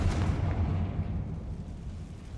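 A fiery Confringo spell explodes in Hogwarts Legacy, one deep rumbling blast that booms loudly at the start and then rolls away into a fading low roar, with no voices over it.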